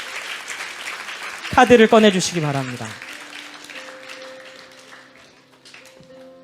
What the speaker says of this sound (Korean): 방금 일어난 일을 위해서 박수 쳐주시고